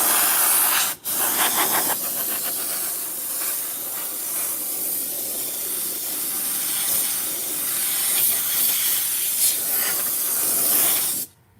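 A spray gun hisses glue in a long, steady, close spray that runs almost without a break, with one brief pause near the start and a sudden cutoff at the end.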